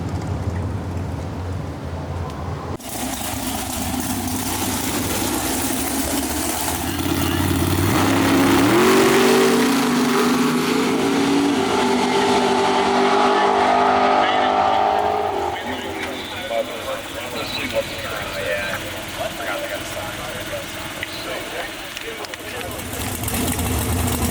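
A door car drag race car at a Triple Fifties event in Dinwiddie, Virginia idles, then revs hard in a rising, sustained roar before settling back to a rough idle, close and loud.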